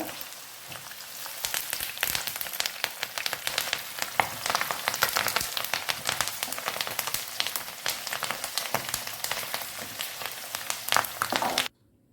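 Beef dry fry sizzling and crackling hard in hot oil with green chilli and curry leaves, a dense, steady spatter that runs close and continuous, then cuts off abruptly near the end; no one talks.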